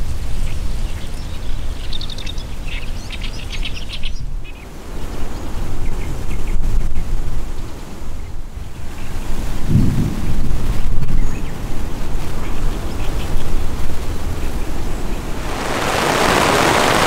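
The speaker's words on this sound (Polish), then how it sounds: "Przeszedł taki jeden, rąbnął piorun tu, drugi tam. Leje strasznie." Heavy rain hisses steadily during a close thunderstorm on a hiking route near volcanoes above Fukushima, Japan, with low rumbling thunder swelling midway and a harsh crackling burst near the end, loud and without talk.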